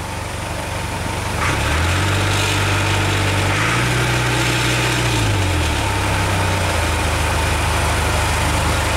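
A Caterpillar CAT 428B backhoe loader engine runs loud and close with a constant diesel rumble, its pitch rising briefly in the middle before settling back.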